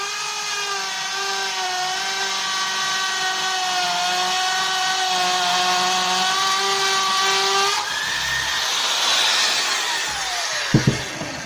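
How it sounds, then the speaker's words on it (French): A loud hammer drill whines steadily at close range drilling into stone, its pitch wavering, then shifts to a rougher grinding before stopping with a few clunks. "On prend la perceuse à percussion."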